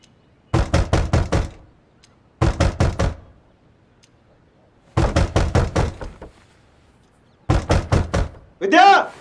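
Rapid bursts of loud knocking on a door, four clusters of about four or five hard raps each separated by pauses, with a voice calling out at the end.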